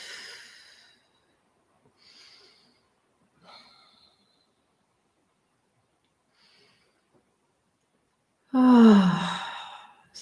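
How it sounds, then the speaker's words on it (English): Slow, soft breaths drift in and out during a yoga stretch in a quiet cabin, ending in one long, louder exhaling sigh. "gentle, deep breaths."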